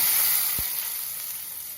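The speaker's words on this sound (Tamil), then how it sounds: "கடுகு தாளித்து போட்டுக்கலாம்" Mustard seeds temper in hot oil for a mixed-vegetable aviyal, giving a loud, bright, continuous sizzling hiss that eases slightly over the short span, with one brief low thump early on.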